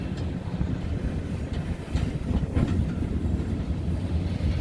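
A BNSF freight train rolls past with a UP locomotive trailing as the rear DPU, a steady loud rumble of wheels and cars with rhythmic clatter on the rails and some wind buffeting, no talk.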